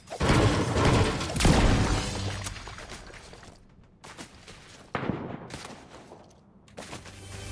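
Video game gunfire rattling in bursts of sharp shots, loud and crashing at first and then lighter, more scattered volleys, with no talk over it.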